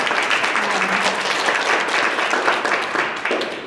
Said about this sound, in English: We'll give you a big round of applause.